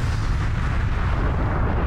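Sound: explosion in video game Aliens: Colonial Marines

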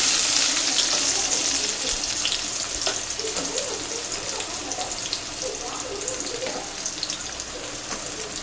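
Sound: chopped onions added to hot oil with mustard seeds, sizzling

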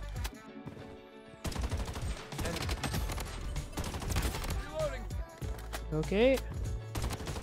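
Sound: MCX assault rifle gunfire in video game Bloodstrike

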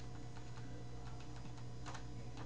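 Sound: pressing arrow key on computer keyboard

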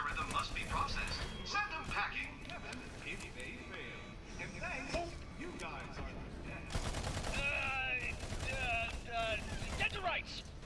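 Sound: assault rifle gunfire in the video game Battleborn

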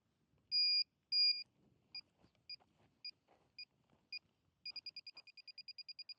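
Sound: water detector machine beeping

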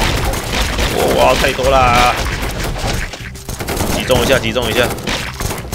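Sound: gunfire in the video game Run!ZombieFoods!

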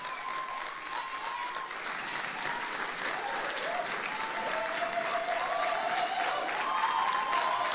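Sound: wedding guests clapping

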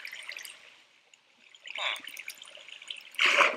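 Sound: flowing water in Minecraft video game

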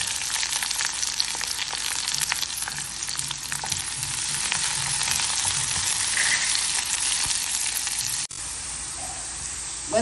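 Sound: onions and curry leaves sautéing in a pan

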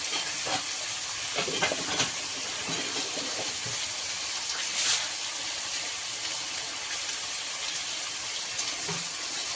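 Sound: potatoes frying in oil with salt and turmeric

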